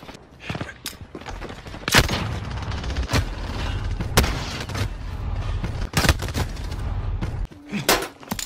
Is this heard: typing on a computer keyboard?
no